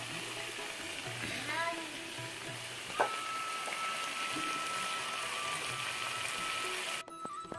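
Meat frying in a pan in a Bengali village kitchen, a steady close sizzle that holds for several seconds with a few faint clinks, then cuts off near the end.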